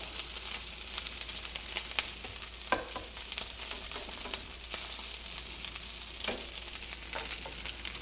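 Chicken fried rice made with Costco rotisserie chicken fries in a pan, giving a steady, close crackling sizzle with occasional spatula scrapes and stirring clicks throughout, no talking.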